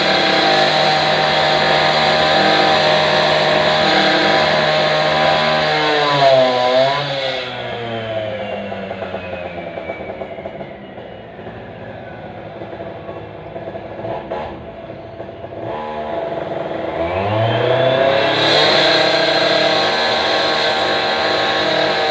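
Heavy street traffic in December 2023 with revving engines: a loud vehicle roars past close by, its engine pitch climbing and falling, then the noise eases before another engine swells back in at the end.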